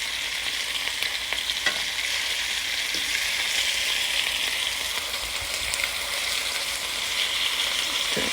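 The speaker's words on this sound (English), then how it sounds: "Let's flip our steaks." Steaks sizzle steadily in a frying pan, a loud continuous hiss of hot fat with occasional pops and crackles throughout.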